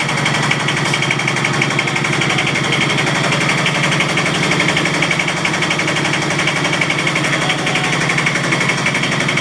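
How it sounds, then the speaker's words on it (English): A boat motor runs steadily and loudly after a tank cleaning and filter work, a fast continuous mechanical chatter that stays close throughout with no talk over it. "As you can hear, we got the motor firing up right now."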